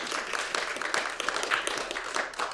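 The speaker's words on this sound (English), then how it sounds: "I think I deserve a round of applause." A round of clapping from a small group, fairly close and irregular, with individual hand claps standing out briefly and no speech over them.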